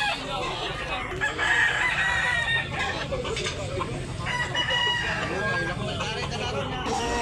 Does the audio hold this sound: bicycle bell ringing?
no